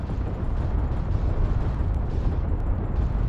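Sustained low rumbling explosions from fire-and-forget missiles striking Russian armored columns in the video game Call to Arms, a dense continuous roar of blasts with no clear separate impacts.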